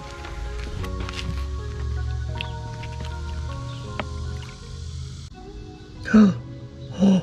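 Gravel is washed in a gold pan, with water sloshing and dripping close by at a steady level, then two louder splashy swishes near the end as the pan is swirled.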